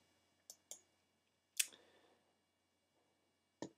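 Several sharp, quiet mouse clicks come in a sparse irregular pattern, one slightly louder with a short tail, pressing the Finish button in foil design software on an otherwise silent computer.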